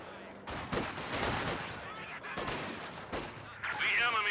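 Gunfire in Company of Heroes 2, a World War II strategy game, with conscript squads firing: a dense, fairly distant crackle of rifle and machine-gun shots that comes and goes in waves.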